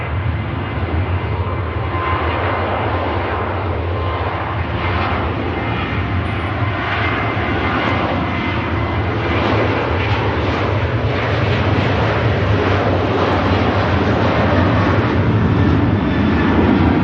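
Loud, steady jet engine roar from a TUI passenger jet taking off at Manchester Airport, a broad rumbling wash that holds constant and swells slightly over the seventeen seconds.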